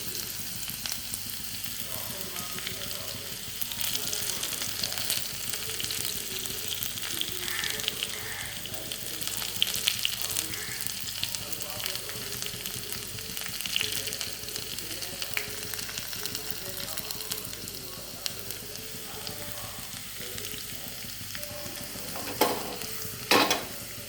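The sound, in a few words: shallots frying in hot oil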